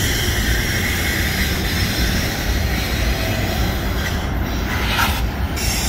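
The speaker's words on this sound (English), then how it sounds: "Oh yeah, we got another locomotive here in the middle." CN freight train with locomotive 2846 rolls through the Pointe-Saint-Charles railyard, a loud, continuous rumble of wagons and wheels with a high metallic squeal over it, close by and steady throughout.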